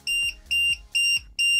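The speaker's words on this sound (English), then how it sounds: "And here is the alarm. You can definitely hear it." Low battery alarm on a Flysky FS-i6 RC transmitter fitted with a LiPo, sounding four loud, even electronic beeps in a steady repeating rhythm, close and clear with no talking.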